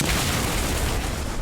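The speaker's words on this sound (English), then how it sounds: "Explosions!" Dense, continuous booming roar like a sound-effect barrage of explosions, loud and sustained without a break and no voices.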